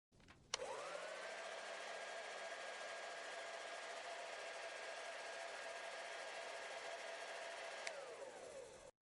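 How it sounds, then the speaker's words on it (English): A hair dryer switches on with a click, blows in a steady close whoosh with a constant whine for several seconds, then clicks off and spins down into silence. "Give me a second to run it under the hairdryer."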